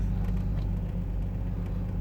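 A car engine idles steadily with a low, continuous rumble while being jump-started, close and fairly loud with no voices over it.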